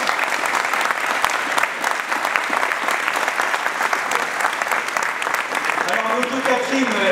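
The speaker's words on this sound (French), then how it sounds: "et pour Catherine de Jésus, je vous applaudis." Sustained audience applause fills a municipal election meeting in Magny-en-Vexin, dense clapping throughout with a voice or two surfacing near the end.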